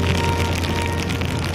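Steady heavy rain in Mumbai hissing and pattering continuously across a surface, with a low constant hum underneath and no voices.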